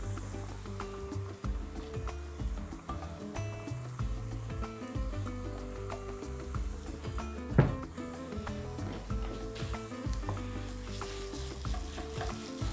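Green onions frying in a pan for mushroom soup, a continuous dense sizzle with stirring scrapes and one louder knock partway through, close and steady.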